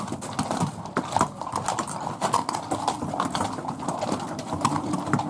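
Horses clip-clop steadily on a Moroccan film-location tour site, with many hooves overlapping in a dense, continuous clatter that stays close and fairly loud, and faint ambient noise underneath.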